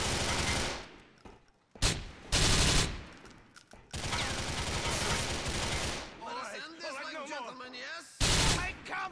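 Gunfire in Grand Theft Auto IV, with a Desert Eagle among the weapons: loud bursts of shots and fusillades come in several clusters, broken by short gaps and a stretch of warbling game effects, with no voices.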